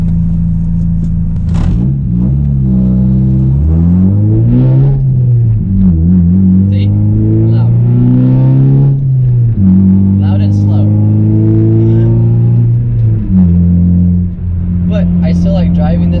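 A car engine revs loudly up and down repeatedly, the pitch climbing and dropping in long sweeps, close and dominant throughout.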